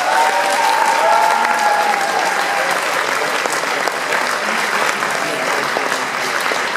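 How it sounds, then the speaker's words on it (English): A theatre audience at a concert in Liverpool applauds loudly and steadily, a dense wash of clapping that fills the room, with a faint voice briefly audible early on. "one more round of applause, please."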